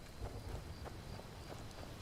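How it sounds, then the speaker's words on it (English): Rain falls in Skyrim, the fantasy video game, as a quiet, steady hiss of rain with a faint low rumble beneath, even and unbroken throughout. "It's just raining anyway."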